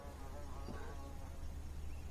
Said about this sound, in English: That bee is really liking it here.